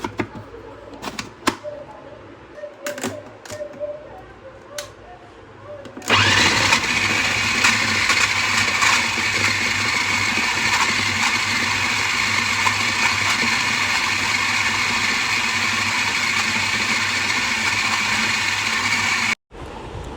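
Electric chopper whirring through chapli kabab mixture with gram flour, starting abruptly after some quiet handling noise and then running loud and steady for about thirteen seconds before cutting off.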